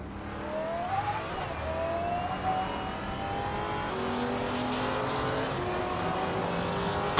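Race cars, including a 2010 Lamborghini Murcielago SV, roar around Bodø International Circuit in a race, with layered engine whines rising and shifting pitch as several cars accelerate together, loud and continuous.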